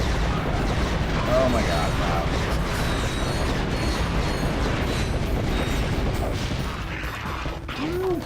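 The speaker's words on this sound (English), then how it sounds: "Behold! The meteor gun!" Meteor gun fired in the video game Ratchet and Clank 2, a dense rumbling barrage of blasts and mechanical clatter running throughout at steady loudness, with an excited voice speaking over it.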